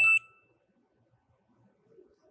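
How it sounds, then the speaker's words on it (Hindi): A single short electronic beep from a continuity tester probing components on an ECM circuit board, loud and abrupt at the start, then near silence with faint handling noise. "लेकिन फिर भी बीप आ रही है"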